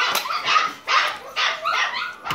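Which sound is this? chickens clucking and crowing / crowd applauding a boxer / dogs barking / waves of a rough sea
dogs barking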